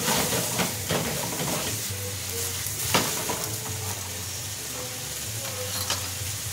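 Chicken stock hits a hot pan of Filipino sautéed chicken with cabbage, setting off a steady, loud sizzle and frying hiss with scattered stirring clatter throughout.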